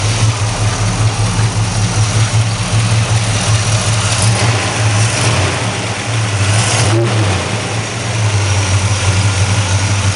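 A Pontiac Catalina 2+2 with a 421 tri-power V8 idles just after a cold start, a steady loud low rumble with strong, even exhaust pulses that holds throughout, with a slight dip in level near the middle.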